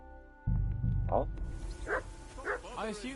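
A dog barks a few times at mid distance in the medieval video game Kingdom Come: Deliverance, yipping and whining over a low background rumble and in-game noise.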